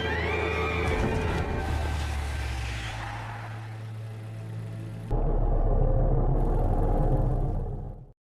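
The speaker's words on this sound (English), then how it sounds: "he shows no mercy and drives backwards," A car reversing to run over a woman lying on the ground gives a loud, steady engine rumble that thickens abruptly about midway into a heavier, denser roar, then cuts off at the end, with no talking.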